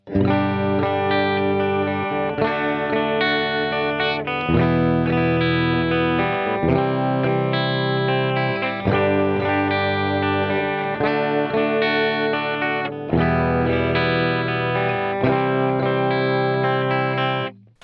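Electric guitar strumming sustained chords through an Xvive U2 wireless transmitter, clean and upfront, a steady progression of changes played loudly with no voices.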